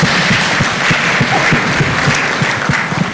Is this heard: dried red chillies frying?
no